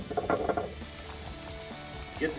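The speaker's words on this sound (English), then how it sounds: "Shiitake's going. A little oil and butter." Shiitake mushrooms sizzle in a pan of oil and butter, a steady soft crackle with a few louder clatters from utensils near the start and end.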